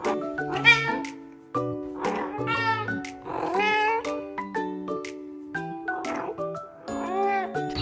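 Cat meowing repeatedly up close, a string of wavering, drawn-out cries with short gaps between them, loud and clear.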